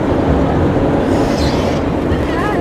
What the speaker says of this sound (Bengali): ট্রেন যাচ্ছে, দেখাও।